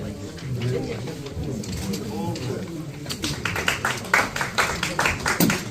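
Applause at a press conference marking the launch of Hwaseong Special City, with scattered claps growing denser in the second half over a murmur of voices and background chatter.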